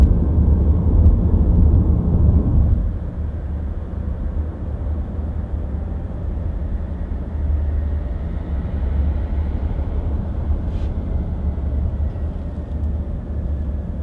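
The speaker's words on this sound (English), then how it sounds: "driving a Chevy Volt really fast" A Chevy Volt plug-in hybrid driven hard, its steady loud road and drivetrain roar holding from start to finish, heavier at first and then settling into an even, continuous rush.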